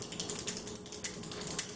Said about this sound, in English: Stop clicking the damn pin.